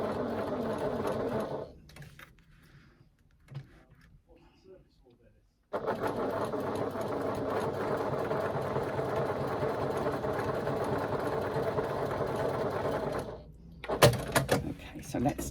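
Sewing machine basting foam around the outside of a panel with an eighth-inch seam allowance, running in a steady continuous whir for several seconds with brief pauses before and after, close and fairly loud.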